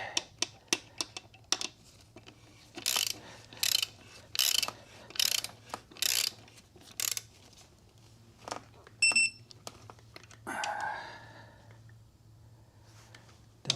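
Ratchet wrench tightening a bolt during dual clutch installation on a 2012 Ford Focus, heard as short bursts of rapid clicking repeated several times with pauses between, close up, followed by a brief metallic ring and a scrape.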